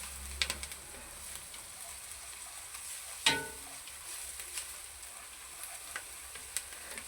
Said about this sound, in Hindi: ताज़ा कुटा हुआ लहसुन है। हमने इसको करेंगे हल्का सा फ्राई।